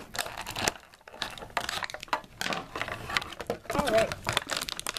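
Plastic toy packaging being cut and pulled open, loud close crinkling and tearing in bursts, with a person talking over part of it.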